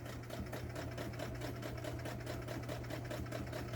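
A Brother 230 Galaxie heavy-duty sewing machine stitches steadily with a long stitch length and no width, sewing up over a thick seam; a close, even whirring hum with a fast rhythmic pulse runs unbroken with no talk.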